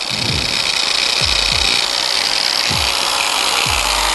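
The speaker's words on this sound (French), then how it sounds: "Et nous allons brancher notre meuleuse. Nous la partons sécuritairement." An angle grinder polishing stainless steel with polishing paste runs with a continuous high whine and gritty rubbing, with a few low thumps as the tool is repositioned.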